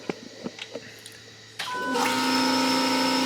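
An aftermarket fuel pump on an SRT4 Caravan clicks a few times, then kicks on with a steady, close electric whine and hum that holds without letup.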